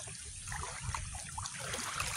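Knee-deep floodwater trickles and dribbles softly and steadily, faint and continuous, with a light liquid splashing texture and no talk.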